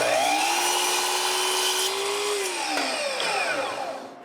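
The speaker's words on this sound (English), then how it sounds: "Now I can cut the strips." A power tool cuts strips of wood in a workshop, a sustained loud whine whose pitch dips slightly as the blade bites through the piece, then fades as the cut ends.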